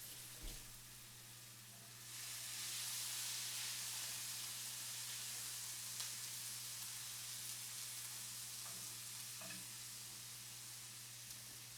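Meatloaf ingredients sizzle and fry steadily in a hot skillet, a dense loud hiss that swells after a soft start and holds with faint scrapes of stirring, no talking.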